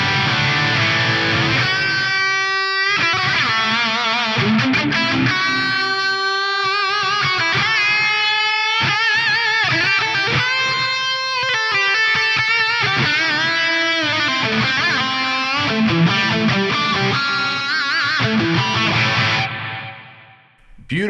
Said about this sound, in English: Beautiful sounding delay